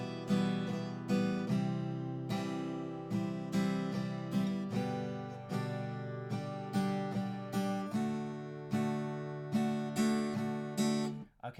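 Rhythm guitar strumming of chords with extra strokes filled in toward the middle and end, a steady, close and evenly loud pattern with no talking over it.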